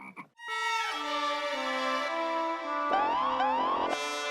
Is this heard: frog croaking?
yes